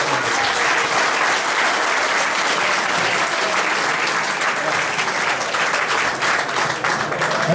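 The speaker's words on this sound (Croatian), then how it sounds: "Jedan veliki aplauz za Vojka" A big round of applause for Vojko at a live comedy evening, loud sustained clapping from an audience filling the whole stretch evenly, with scattered crowd noise underneath and no one speaking.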